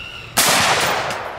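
A rifle firing M855 ball ammunition at a homemade ceramic armor plate outdoors: one sharp, loud close shot with a long noisy decay and echo, no talking.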